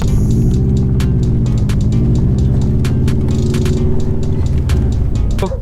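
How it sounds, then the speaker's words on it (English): Interior drone of a 1998 Japanese-market Subaru Impreza with 280 brake horsepower and a Rocket Bunny kit, a loud steady engine rumble while driving, broken by frequent light clicks and ticks. "I'm driving a Subaru, a Japanese version."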